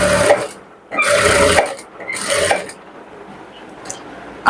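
Sewing machine stitching the waistband casing onto a patiala-style salwar, running in three short bursts of whirring, rattling mechanism with brief pauses between, close by and moderately loud.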